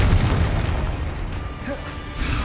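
A Confringo fire-spell blast in the game Hogwarts Legacy, a dense low boom with rumbling burst noise that fades and swells across the moment, layered with game effects and a spoken voice.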